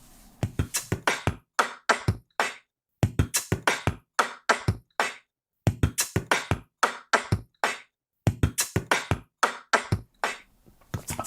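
Solo vocal beatbox pattern of six quick percussive mouth sounds, voice imitating drum kicks, snares and hi-hats, repeated in four tight bursts with short gaps between, close and crisp with no talking.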